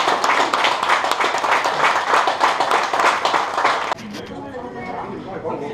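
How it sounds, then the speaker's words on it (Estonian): A crowd gives dense, lively applause at a prize-giving for an ice-track racing championship. The clapping runs strongly for about four seconds, then drops off sharply into quieter murmuring and room noise. "Aplaus."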